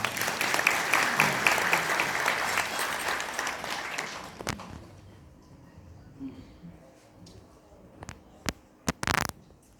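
Guests at a wedding clap together in a dense burst for about four seconds, then the applause dies away, leaving a quiet room broken by a few scattered late claps.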